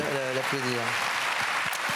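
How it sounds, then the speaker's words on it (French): At an Auxerre Olympic New Year's reception, a brief spell of fairly faint audience clapping follows a short stretch of a voice speaking, the applause continuing softly to the end. "Alors, oui, on peut effectivement l'applaudir"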